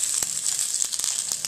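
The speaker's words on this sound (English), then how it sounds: "this pan frying isn't going to take too long, maybe 2 or 3 minutes at most" Potstickers pan frying in a saute pan, giving a bright, steady close-up sizzle with faint crackles and light clicks of tongs, and no one talking.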